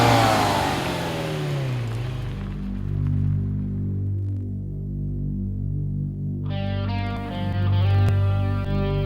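A Ferrari 456 GT engine idles with a deep, steady throb, a rev rising and settling early on before a brighter, harmonic-rich blip near the end; close and fairly loud, with no talking.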